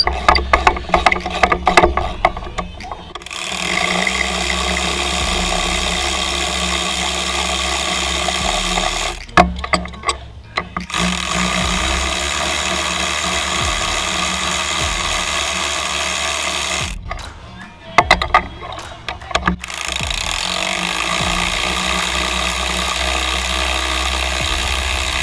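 On a 2014 Mercedes C250, a hand ratchet works spark plugs loose in repeated bursts of rapid clicking, separated by brief pauses. The sound is close and clear, with no one talking.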